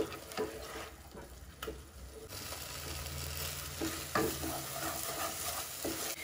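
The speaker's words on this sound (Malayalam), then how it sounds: "ഇനി ഇതൊന്ന് 3-4 മിനിറ്റ് ഈ നെയ്യിലൊന്ന് നന്നായിട്ട് നമുക്ക് വഴറ്റിയെടുക്കണം" Corn paste sautéing in ghee for a corn payasam makes a soft sizzle under the scrape and clack of a spoon stirring the pan, with a few louder knocks scattered throughout.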